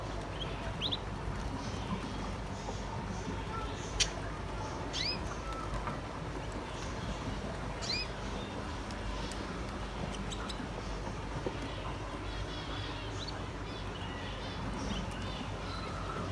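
Young budgerigars in a pet shop give faint, scattered chirps and squeaks over a low background hum, with occasional sharper tweets standing out.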